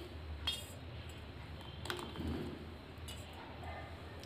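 A spoon clinks lightly a few times against a bowl while oil is added to cake batter of eggs, sugar and baking powder, faint, sparse metallic taps over a quiet room hum.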